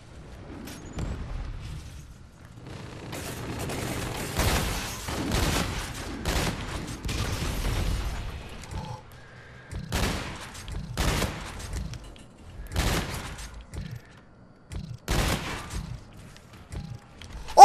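Bursts of gunfire in Call of Duty: Infinite Warfare multiplayer, rapid volleys and single sharp shots spaced irregularly, with quieter gaps between the bursts.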